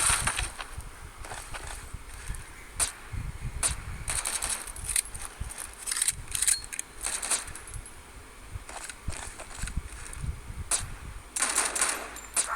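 Gunfire in a SWAT video game, rapid bursts of sharp shots with brief pauses between volleys, clicking and metallic clatter throughout, fairly loud and alone without talking.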